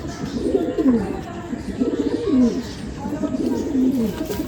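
Madrasi pigeons coo in repeated low, rolling calls, about three phrases in a row, close and clear against a faint background.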